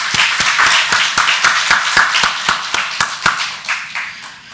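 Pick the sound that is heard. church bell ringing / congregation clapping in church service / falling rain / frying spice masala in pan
congregation clapping in church service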